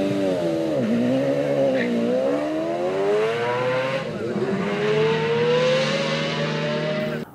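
A McLaren F1 V12 engine with 3-in-1 headers sings a loud, smooth, high-revving note that climbs and dips steadily, heard alone and up close throughout.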